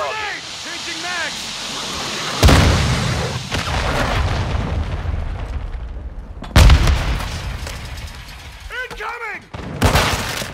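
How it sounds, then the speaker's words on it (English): Several heavy booming blasts ring out during an online Call of Duty MW II team deathmatch, with a cruise missile strike amid mechanical clatter and gunfire, and voiced game callouts between the blasts. "Enemy cruise missile approaching target."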